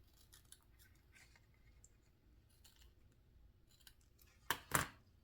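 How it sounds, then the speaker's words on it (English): Scissors trimming a craft piece, a 4 slot corner pocket, with a scatter of soft faint snips and paper rustles, then two sharp, louder close cuts at the end in a quiet room. "Let's trim it a little bit closer."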